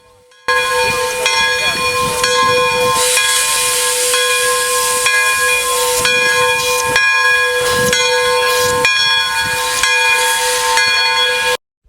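Steam locomotive Pere Marquette 1225 blasts a loud steam whistle with a harmonic tone over continuous hissing steam, sustained for about eleven seconds before cutting off abruptly.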